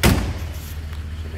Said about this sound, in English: Those doors close.